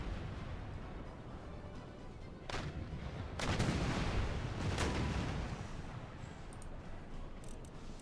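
Sailing-ship cannons boom in a naval battle in Empire Total War, a few heavy distant shots rolling over a constant rumbling bed of battle noise.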